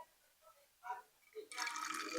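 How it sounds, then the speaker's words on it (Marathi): Soaked rice water poured into a spray bottle: a few faint drips early on, then a louder, steady trickling splash of liquid filling the bottle for the last stretch. "रात्री भिजवलेलं तांदळाचं पाणी आपण आधी स्प्रे बॉटल मध्ये ओतून घेऊयात."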